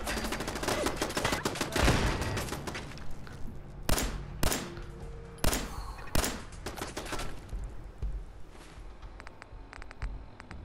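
Minigun fire in Fallout 4, a dense, sustained roar of rapid shots, broken by a few sharp louder bursts near the middle, with battle noise filling the background throughout.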